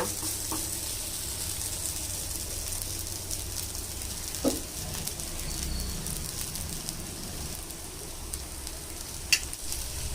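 Bottle gourd roti frying in oil on a pan after being flipped, a steady soft sizzle running throughout with a couple of faint clicks and taps, no talking.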